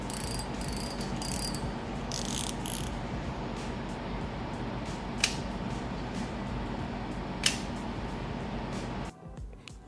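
Bearking Assassin spinning reel, a beefy budget model, turned by hand indoors, a soft continuous clicking and whirring with a few sharp ticks, over a steady air-conditioner hiss in the background, then a sudden stop near the end.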